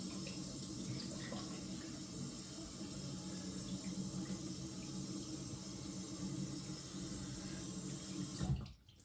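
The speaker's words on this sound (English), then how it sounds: "Just rinse up real quick." Water running steadily from a tap as something is rinsed, a soft, continuous hiss that stays even for several seconds and then cuts off abruptly near the end.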